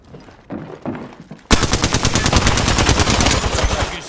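Video game gunfire opens with a few quieter scattered shots, then bursts into loud, rapid automatic fire that rattles on continuously to the end.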